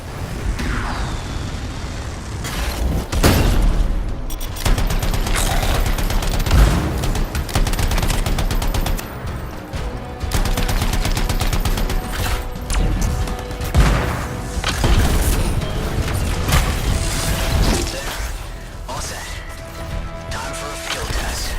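Canisters set as a trap in the video game Anthem detonate amid heavy combat, with booming blasts, crashes and bursts of rapid gunfire repeating throughout a long, loud, chaotic stretch.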